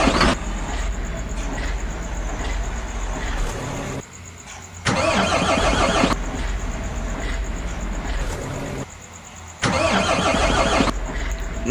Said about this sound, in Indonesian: Untuk suara starternya kurang lebih seperti ini cuy.